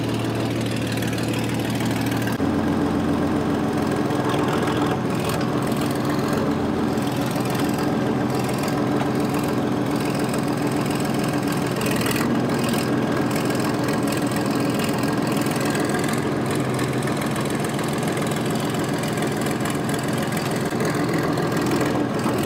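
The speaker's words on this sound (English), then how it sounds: "I need to move the tractor." A tractor engine idles steadily up close, a continuous low chugging rumble that shifts slightly in tone after the first few seconds and then holds.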